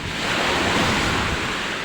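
Strong sea waves surge and wash continuously with heavy wind buffeting the microphone, a loud, steady roar filling the whole stretch with no speech.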